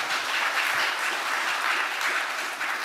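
Applause from a church congregation, a steady dense clapping that fills the space at even loudness throughout, with no voices over it.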